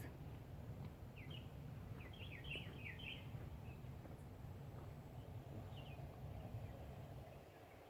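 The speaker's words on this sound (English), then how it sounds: "Quiet moment with birds." Faint bird chirps and short tweets come and go over a steady low background rumble at Bois Cheri tea estate, distant and sparse.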